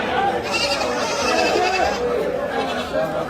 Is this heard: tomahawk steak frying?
no